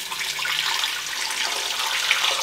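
Liquid pours steadily into a container for a smoothie, a continuous bright splashing stream that stays loud and close for a couple of seconds.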